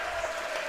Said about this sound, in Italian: Applausi del pubblico